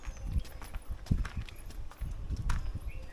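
A horse's hooves clip-clop on hard stone steps in an irregular walking rhythm, close by, each step a sharp knock over a faint outdoor background.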